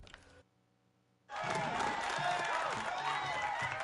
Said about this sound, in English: Kung Lao bows to the watching crowd while Raiden kneels.